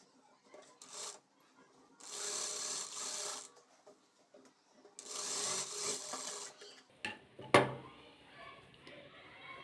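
A sewing machine stitches a blouse in two sustained runs of rapid, whirring needle chatter, separated by pauses, ending with a short burst and a sharp click close by.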